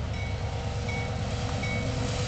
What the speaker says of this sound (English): let's try to enjoy this last train of the day